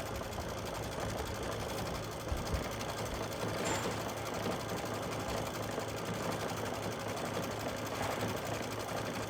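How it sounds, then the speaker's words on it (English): An embroidery machine stitches a towel with stabilizer at its fastest speed, a steady, fast, close mechanical whir and rapid needle chatter that runs continuously without talk. "we're just gonna hit go, and it is going to start embroidering"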